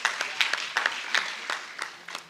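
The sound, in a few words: audience clapping hands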